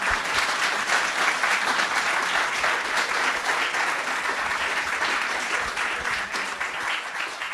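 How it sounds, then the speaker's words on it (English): Steady audience applause at a history talk, continuous clapping at moderate loudness from start to end with no voices above it. "one more round of applause"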